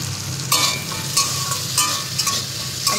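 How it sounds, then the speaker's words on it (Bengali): Salted jackfruit seeds fry in a pan with a continuous sizzle, punctuated by a few sharp scraping stirs of a utensil against the metal, close and clear with no voices. "একটু এই বীজগুলো আমি একটু ভেজে নেব।"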